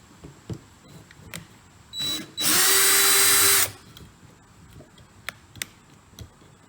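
A power drill whines loudly for about a second after a brief trigger pull while drilling holes for spin art, with scattered ticks and clicks around it.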